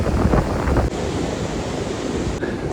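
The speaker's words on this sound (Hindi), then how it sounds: "सी काफ़ी रफ़ लग रहा है क्योंकि पानी बढ़ रहा है" Rough sea waves surging and breaking on a rising tide where jet skis are rented, a steady, loud broadband roar of surf mixed with wind buffeting the microphone, with no voices.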